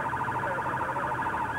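A police car siren wails steadily on a motorway, a warbling two-tone call over road rumble at moderate distance, with no voices.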